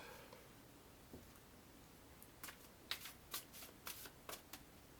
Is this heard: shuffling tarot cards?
yes